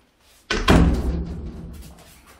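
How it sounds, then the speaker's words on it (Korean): A room door in a newly bought apartment swings shut with a single solid slam, followed by a short ringing decay, close to the listener with no talking. "방문을 닫으면"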